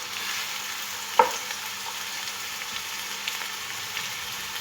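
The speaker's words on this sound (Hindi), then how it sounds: "प्याज को हम लाइट ब्राउन होने तक फ्राई करेंगे।" Onions frying in a pan until light brown, a steady soft sizzle running throughout at a low level, with one brief sharp clink near the start.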